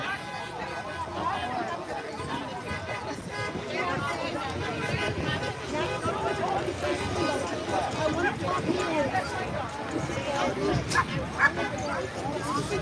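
Several dogs bark and yip amid a noisy outdoor political rally crowd in Beverly Hills, with chatter and babble running throughout.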